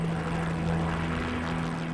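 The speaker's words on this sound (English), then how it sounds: "it's a helicopter. You know, it's a hybrid." The CarterCopter, an experimental gyroplane hybrid aircraft, flies with a steady, loud droning propeller and engine hum, a continuous tonal whirr with no break over two seconds.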